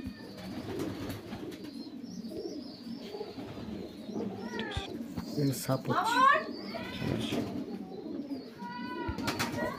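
Pigeons coo steadily in a loft with many birds. Soft, rolling coos repeat close by throughout, with a few chirps mixed in and someone talking over them.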